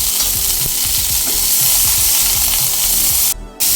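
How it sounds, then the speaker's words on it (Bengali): Green peas frying in ghee in a wok over a medium flame, a loud continuous sizzle close by with repeated scraping strokes of stirring, then a short dip near the end. "মিডিয়াম ফ্লেমে নেড়ে ছেড়ে চার থেকে পাঁচ মিনিট কড়াইশুঁটিগুলো ভেজে"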